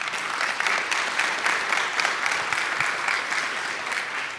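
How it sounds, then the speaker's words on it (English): Conference audience gives a sustained round of applause, a steady crackling wash of many hands clapping at even volume from start to finish, with no talking. "Round of applause."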